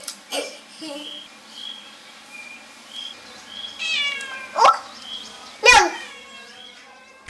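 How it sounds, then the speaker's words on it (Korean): A stray cat in a back garden meows several times in short, close calls, with a voice and soft chirps heard between them against a quiet background. "갑자기 도둑 고양이가 아는 척을 한다."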